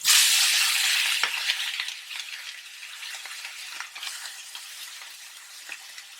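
Chicken salan being stirred into a hot handi, giving a loud, hissing sizzle that starts strong and settles into a steady crackling fry with light stirring, with no voices.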